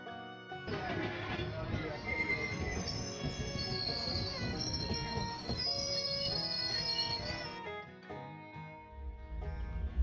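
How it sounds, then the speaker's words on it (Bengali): A train pulls into the platform at Somra Bazar station in Hooghly, with a rumbling roll and high, drawn-out wheel squeals for several seconds before the sound dies away near the end. "আমাদের ট্রেনটি প্রবেশ করছে সোমরা বাজার প্ল্যাটফর্মে"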